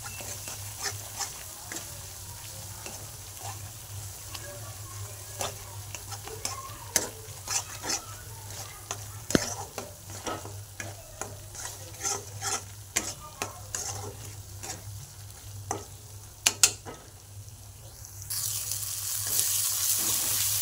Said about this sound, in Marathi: हा मसाला चांगला भाजून घ्यायचा आहे।